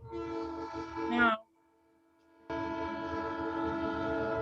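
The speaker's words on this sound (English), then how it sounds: "I got a train going by" A passing train with a loud, sustained horn-like tone cuts out briefly, then resumes with steady rumbling and clatter, with a single brief spoken word heard over it.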